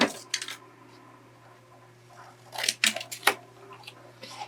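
Scissors trimming a square of fabric to size in a Christmas craft project, a few quick close snips and crisp cuts clustered together after a quieter stretch of faint handling noise.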